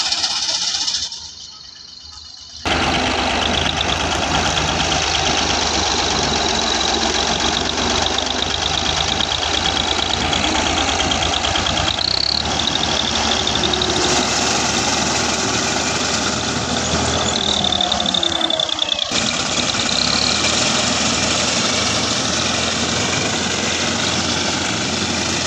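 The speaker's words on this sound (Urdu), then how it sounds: "یہ ٹریکٹر،" A tractor working a wheat harvest runs steadily, its loud, continuous diesel engine drone filling the air after a brief quieter moment at the start, with no pause.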